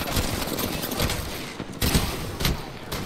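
Rapid bursts of gunfire crackle in an Apex Legends match, dense automatic volleys with short gaps and sharp repeated cracks, loud and close throughout.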